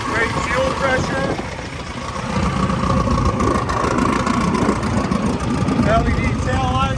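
A vehicle engine idles steadily on a windy day, a low, even rumble under constant wind noise, with a person talking over it.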